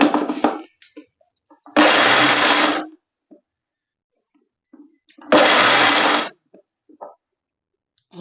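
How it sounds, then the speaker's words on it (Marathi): A mixer grinder blitzes unpeeled peanuts for ladoos, two loud bursts of whirring of about a second each, separated by quiet pauses with small clicks and handling noises. "तर अशा प्रकारे आपल्याला मिक्सर करायचा आहे"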